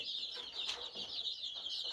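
A flock of young chicks, about 45 of them, cheep and chirp continuously at low volume, a constant high twittering with small rises in intensity.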